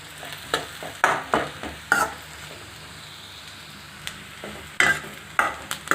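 Squid chilli fry is stirred in a hot pan after a dusting of pepper, with a spatula scraping and clacking against the metal in irregular bursts over a faint, steady sizzle.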